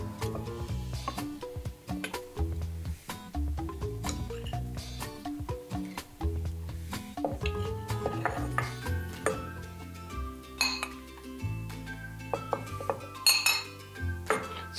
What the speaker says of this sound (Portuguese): Nós vamos montar agora a moqueca com o filé de dourado.